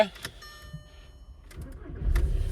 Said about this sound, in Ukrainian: Дизельний двигун працює дуже чітко, без жодних перебоїв.